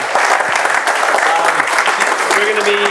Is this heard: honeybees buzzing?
no